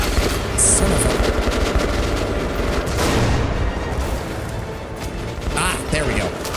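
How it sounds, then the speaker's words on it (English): Support gunfire in the Metro video game, a loud continuous barrage of rapid shots and bursts with booming impacts, with voices talking over the din. "Where's the support fire coming from?"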